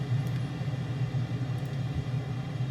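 A simulated aircraft engine in Microsoft Flight Simulator 2020 winding down after shutdown, a steady low rumbling drone throughout the cockpit.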